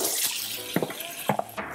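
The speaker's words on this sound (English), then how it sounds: "Just run it under some water." Water runs from a kitchen tap as a tool is rinsed. A soft hiss is broken by a few splashy knocks and drips, fairly close and quiet, with no talking.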